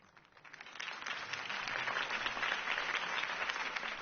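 A crowd bursts into sustained applause after Harvey Dent's campaign speech in the Telltale Batman game, swelling quickly from quiet into a dense, even wash of clapping that continues steadily.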